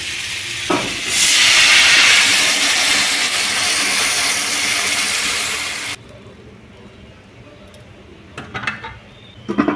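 Water poured into a hot wok of sizzling river-fish masala sets off a loud, steamy hiss that swells for several seconds, then cuts off abruptly to a quiet bubbling with faint clatter.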